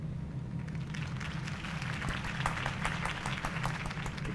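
Crowd applause in Batman: The Telltale Series rises after a campaign speech for Harvey Dent, a steady dense patter of many hands held at an even, moderate level throughout, with no voices on top.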